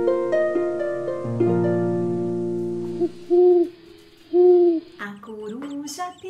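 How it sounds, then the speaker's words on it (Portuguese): Owl hooting, two clear rounded hoots spaced about a second apart near the end, following a sustained musical chord. "A coruja piou"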